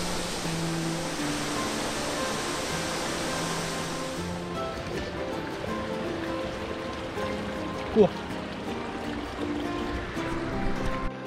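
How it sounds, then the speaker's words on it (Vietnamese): Broad steady rushing roar of water from the seven-tier Nả Háng waterfall in Tủa Chùa, constant throughout, with a brief exclamation from a person partway through. "Thác ở kia các bạn nhá."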